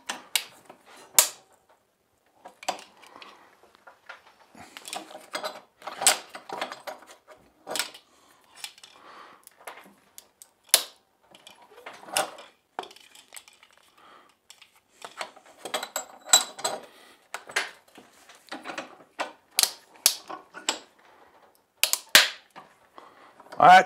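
A plastic case from a smart lithium-ion car jump starter is squeezed in a bench vise, giving a long run of irregular sharp clicks, creaks and snapping cracks at close range, some louder pops standing out, with no talk.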